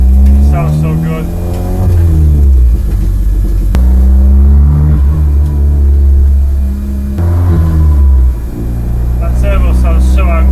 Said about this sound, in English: That turbo sounds so angry.